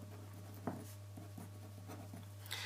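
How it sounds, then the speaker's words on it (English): Handwriting on paper while working through a trigonometry problem: short scratchy pen strokes in several quick bursts, close and soft, over a steady low hum with no talking. "So write up SOHCAHTOA."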